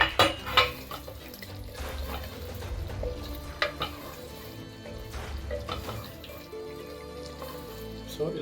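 Spice powder being stirred into a Telangana-style chicken curry in a pot, with repeated scraping and clinking of a spoon against metal over a low sizzle, irregular strokes throughout.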